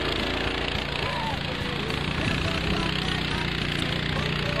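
A small mud cart's motor runs steadily and loudly throughout, a continuous broadband engine drone with low rumble, heard after driving through wet mud and puddles.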